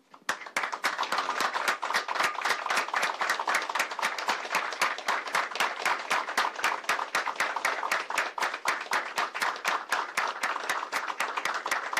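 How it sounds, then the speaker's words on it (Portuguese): Journalists at a press conference applaud Fluminense coach Abel Braga after a 3-1 win over Atlético-GO, a sustained run of crisp, closely spaced claps from a small group lasting about twelve seconds, with no talk over it. "receber você aqui como um aplauso aqui de todo mundo"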